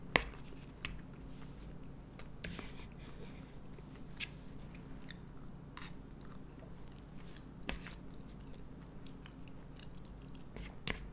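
Someone chews an Old El Paso taco up close, with soft crunching and wet chewing sounds in an irregular rhythm over a low background hum, with no talking.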